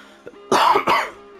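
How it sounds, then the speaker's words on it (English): A person coughs twice in quick succession, two loud, harsh bursts close to the mic with faint game sounds beneath, while playing PAC-MAN World Re-PAC. "Sorry about the cough there"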